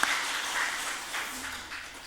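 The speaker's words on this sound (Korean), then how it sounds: "다시 한번 격려의 박수로 격려하겠습니다" A church congregation applauds after the worship team's singing, a soft, steady patter of clapping that sounds distant.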